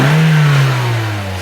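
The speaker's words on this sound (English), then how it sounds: "can you go in the car and just rev it a little bit" A Toyota Corolla engine with a fuel pressure fault revs up briefly and then eases back down, a steady loud mid-pitched drone with no talking.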